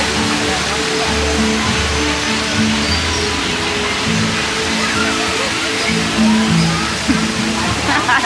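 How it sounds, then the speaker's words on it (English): Loud, constant roar of a large waterfall crashing and splashing into a small pool at a theme park attraction, with indistinct voices talking underneath. "they have this big giant waterfall that drops down into a little mini lake"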